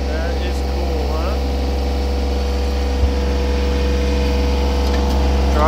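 A Yanmar diesel engine on a Hogg and Davis Hydra 985 cable reel trailer runs at a steady idle, its low drone continuous throughout, with people talking nearby over it.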